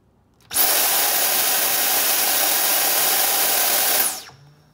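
A Dyson V10 cordless vacuum on maximum power and suction kicks on, holds a loud, steady high-pitched whine for about three and a half seconds, then spins down; no voices.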